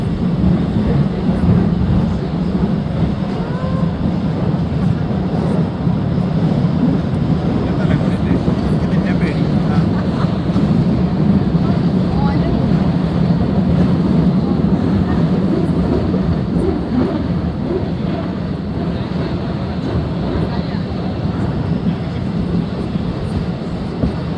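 Continuous low rumble and rattle of a small tourist train riding through Postojna Cave in Slovenia, steady and loud throughout, with faint voices mixed in.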